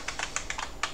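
Keystrokes on a computer keyboard during a Linux system setup, about six quick, close taps spaced irregularly over a quiet background, with no talking.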